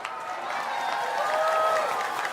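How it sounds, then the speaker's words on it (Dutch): A crowd applauds the performers at a children's carnival song festival, a dense, even wash of clapping and cheering at moderate distance, with no break across the short stretch. "Dus geef deze artiesten eens een groot applaus."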